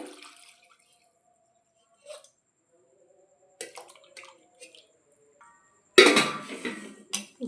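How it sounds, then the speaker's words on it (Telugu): Water pours into a pot of ripe tomatoes for tomato rasam: a few sparse kitchen clinks and soft knocks give way to a short, loud, close splash of pouring near the end. "ఇప్పుడు దీనికి తగ్గ వాటర్ అయితే పోసేస్తున్నానండి"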